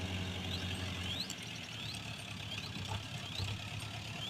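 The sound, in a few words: vehicle engine idling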